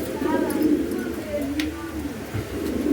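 Pigeons, a pair of Barless Modena birds offered for sale, give low throaty coos near and fairly loud, with someone talking over them throughout.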